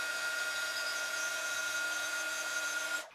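A heat tool runs steadily as it dries a paper image transfer piece, giving a continuous, close whirring blower hiss with a faint high whine that stops abruptly at the end.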